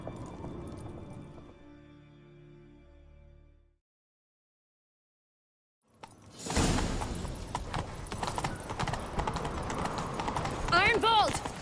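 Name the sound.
horse galloping while chasing, from video game The Witcher 3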